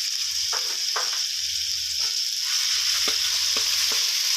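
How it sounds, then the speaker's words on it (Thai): Green curry paste stir-fried in a little hot oil, a continuous bright sizzle with several short scraping strokes of a spatula against the pan, close up and with no speech. "ผัดให้หอมเลยนะครับ"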